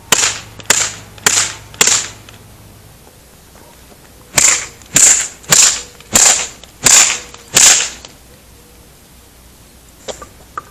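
A tennis racket being smashed apart: a series of sharp, loud cracking impacts, four quick hits, then a pause and six more evenly spaced heavy blows, ending with a couple of faint knocks.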